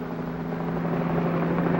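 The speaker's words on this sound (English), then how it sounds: "Whirling over the city, a police helicopter reports traffic movement to the operations center." A police helicopter drones steadily over a city, its low rotor thrum and engine whine continuous and fairly loud throughout, in 1957.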